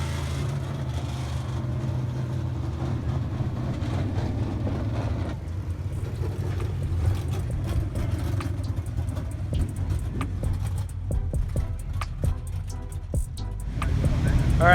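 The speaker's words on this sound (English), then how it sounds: "we took the car out, hot lapped it" A race car engine drones steadily at a distance while hot lapping a track, with road-like rumble and occasional higher revving toward the end.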